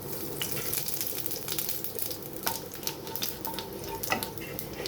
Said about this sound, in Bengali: এখানে দিয়ে দিচ্ছি তেলে 5 ফোড়ন